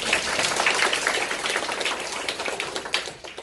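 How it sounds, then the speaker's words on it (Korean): Lecture-seminar audience clapping together, a dense, steady patter of many hands that stays close and loud, then thins slightly toward the end. "이해돼서 박수를 한번 칩시다"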